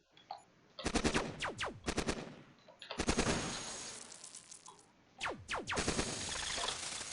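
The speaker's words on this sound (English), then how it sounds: "Oh, he's shooting at an unarmed dude." Bursts of rapid machine gun fire from the robot-combat video game Cogmind, three loud rattling volleys separated by short gaps, each with descending sweeping tones, no talk.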